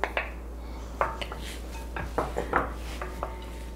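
A salmon and hake pie mixture being stirred in a pot, with sharp metallic clinks and knocks of the utensil against the pot rim, scattered and irregular over a low steady hum.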